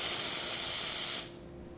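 Steam hisses loudly and steadily from a Profitec espresso machine's wand for about a second, then cuts off abruptly into quiet.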